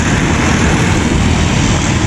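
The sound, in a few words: motorcycle engine straining on the road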